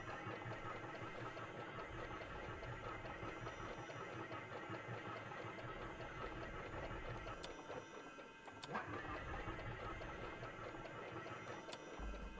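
A plane engine in the X-Plane 12 flight sim runs at full throttle as a steady, faint, buzzing drone that holds throughout with only a brief dip near the end.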